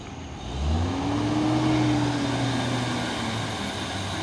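Isuzu Giga truck engine revving hard in one rising and falling surge while its wheels slip, a steady loud drone with no talking.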